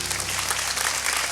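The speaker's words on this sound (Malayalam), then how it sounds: "അപ്പം സാറിന് ഒരു ക്ലാപ്പ്." A studio audience claps steadily for a judge on a quiz show, dense applause with no break for its whole brief length.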